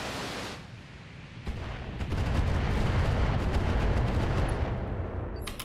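Salvos of missiles launching from battling mechs in Battletech, a soft rumble swelling into a loud, sustained roar of rapid crackling fire and blasts that tapers slightly at the end.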